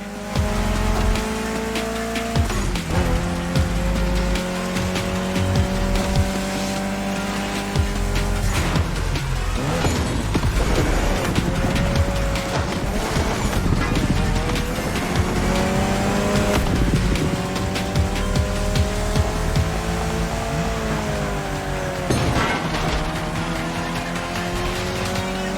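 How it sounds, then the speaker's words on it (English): A Mitsubishi Lancer Evo X racing car drives hard in a game, its engine revving up and down through gear changes while tires squeal and skid, loud and continuous without talk. "especially your new ride, Toji's Mitsubishi Lancer Evo X"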